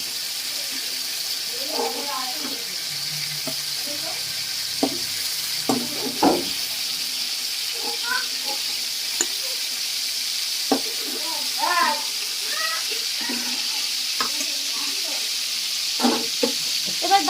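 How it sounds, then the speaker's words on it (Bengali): Ridge gourd slices frying in oil on a high flame in a home kitchen: a low, constant sizzle and hiss beneath a person talking, with occasional clinks and knocks of utensils. "বাকি ঝিঙেগুলোকে একইভাবে দিয়ে দেওয়া হচ্ছে এগুলোকেও ভেজে নিতে হবে"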